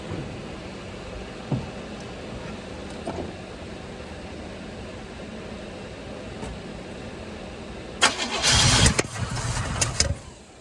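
An old truck's engine cranks in a short, loud burst lasting about two seconds, following a long stretch of faint background noise.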